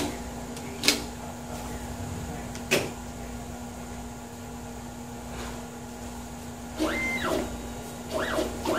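A Lawson Focus-CTS screen printing machine runs with a steady low mechanical hum, broken by two sharp clicks early on and then rising and falling motor whines as the carriage travels back, close and moderately loud.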